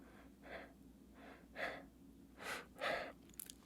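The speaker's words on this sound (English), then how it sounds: "These are short, shallow little breaths that look like this." Short, shallow breaths drawn with the accessory muscles, as in a fearful state: about five quick, close-up breaths in an uneven rhythm, the later ones louder and sharper, with no talking.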